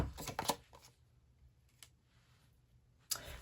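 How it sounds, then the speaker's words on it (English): Tarot cards being shuffled and drawn from a deck, a quick burst of close riffling and soft card clicks at the start, then a near-silent pause and one more short flutter at the end. "Now let's get some tarot. I'm going to get 3 cards out."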